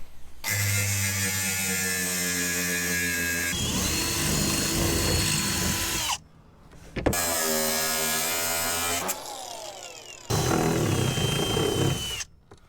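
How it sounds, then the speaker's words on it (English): A power drill whirs loudly in several long bursts, its motor pitch shifting between runs, with brief pauses and a clatter between them. "I gotta get into this with the drill"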